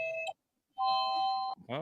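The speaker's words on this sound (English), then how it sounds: "there you go, ding dong ding" A two-tone doorbell chime rings out clearly, a ding followed by a longer dong, loud and close with a short silence between the tones, and a brief voice at the end.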